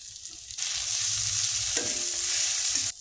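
Food is sautéed in a pan with salt and turmeric powder, a close, steady sizzle that swells suddenly and holds, with scraping stirs before cutting off.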